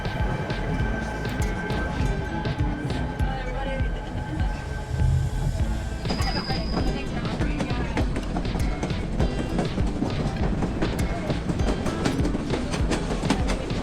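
A White Pass and Yukon Route train rumbles steadily along the rails in Skagway, Alaska, with continuous rolling noise and faint clatter, voices murmuring in the background throughout.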